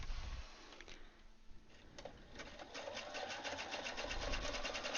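A sewing machine satin stitches fabric appliqué, whirring in a fast even patter that pauses briefly while the fabric is turned at a corner, then resumes, close and fairly quiet.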